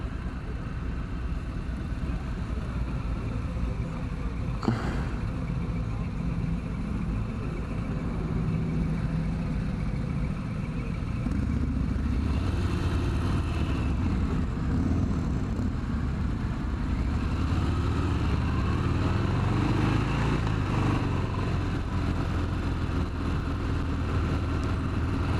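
A 2020 Harley-Davidson Fat Bob motorcycle engine runs while riding, a steady low rumble throughout with some wind noise and a rise in intensity partway through.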